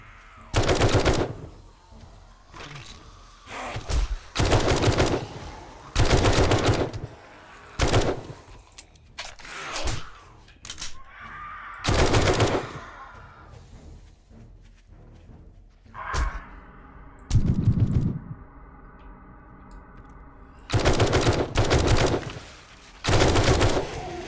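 Repeated bursts of automatic rifle fire from a modded 7 Days to Die zombie-survival game, loud rapid volleys coming in several separate clusters with short gaps of quieter ambience between them.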